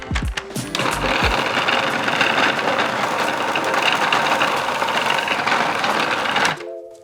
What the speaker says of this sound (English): now it's just a case of blitzing to mix.